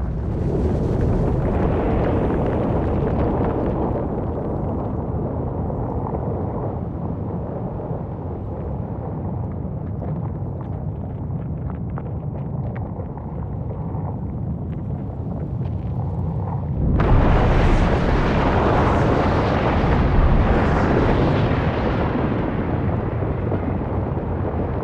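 Volcanic eruption explosions, a dense, booming roar that rumbles steadily before a sudden louder blast surges partway through and holds, heavy and continuous with no speech.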